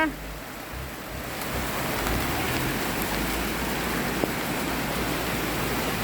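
Steady, dense rain falls outdoors in a continuous broadband hiss that stays loud and unbroken throughout, with no clear voices over it.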